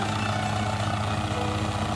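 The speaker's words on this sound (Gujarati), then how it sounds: "આજુ હેલિકોપ્ટર આવી રહ્યું છે" A helicopter is arriving at the Kedarnath helipad, with a loud, steady engine and rotor drone that stays constant and close throughout.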